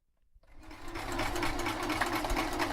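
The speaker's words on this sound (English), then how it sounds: "Can we hear your sewing machine?" Sewing machine stitching a free-hand spiral, wavy pattern, starting from silence and ramping up into a fast, steady mechanical whir with rapid needle chatter, close and fairly loud.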